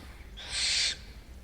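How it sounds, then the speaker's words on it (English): A single harsh owl shriek, about half a second long, sharp and fairly close, heard alone against a faint low background hum. "It was the owl that shrieked"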